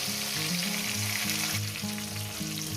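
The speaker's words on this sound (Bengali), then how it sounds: "টমেটোটাকে দিয়ে এক মিনিট আমি একটু ভেজে নেব" Tomato frying with drumsticks in a pan: a loud, steady close-up sizzle with a low rhythmic hum pulsing underneath, continuous and without voices.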